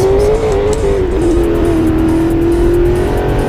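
Racing game car in Midnight Racing Tokyo pulling away from a launch, its engine note holding a steady drone that rises slightly as it accelerates, loud and continuous with a faint tire hiss and no talking.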